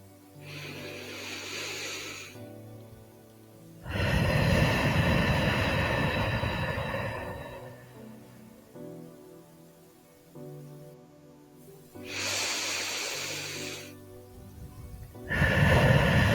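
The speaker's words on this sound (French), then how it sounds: "Vous allez prendre 3 grandes respirations profondes." Three slow, deep breaths during a guided sophrology relaxation, each a long, soft whooshing inhale and exhale lasting several seconds, close and fairly quiet, over a gentle musical drone with pauses between breaths.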